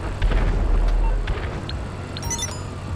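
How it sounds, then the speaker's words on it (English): Sticky bombs detonating in a video game during an ambush on a selling mission: a deep, loud explosive boom rolls out over the first second, followed by lighter pops and scattered blasts with a faint tonal sound near the end. "detonate your sticky bombs"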